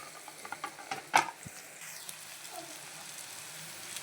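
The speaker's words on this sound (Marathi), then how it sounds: "आपण भाजी आहे ती तेलामध्ये टाकायची आहे आता इथे" Chopped leafy vegetable drops into hot oil with a few clattering stirs and a sharp burst, then settles into a faint, steady sizzle.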